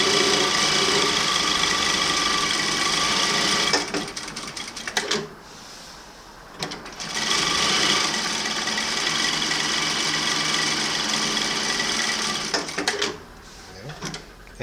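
An MS-9800KR electronic lockstitch sewing machine with automatic thread trimmer running a stitch pattern, with a steady rapid mechanical whir that stops briefly near the middle and restarts, up close.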